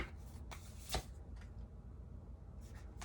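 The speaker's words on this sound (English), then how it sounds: "Let's cut the deck." A tarot deck is cut and riffled at close range in a few quick shuffling bursts, the cards flapping and snapping against each other in a quiet room, with no voices.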